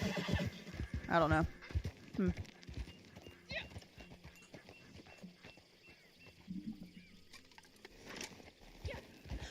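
A horse in the Red Dead Online video game neighs and clip-clops with close, clattering hoofbeats and a shrill whinny early on, while a person talks over it.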